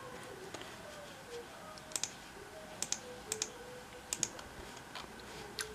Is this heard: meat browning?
no